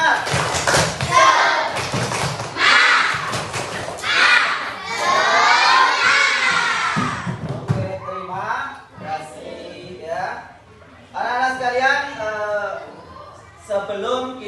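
A class of primary schoolchildren in an Islamic elementary classroom performs the rhythmic 'tepuk semangat' spirit clap and chant, loud and close, with excited shouting voices and bursts of clapping, ending in scattered children's chatter.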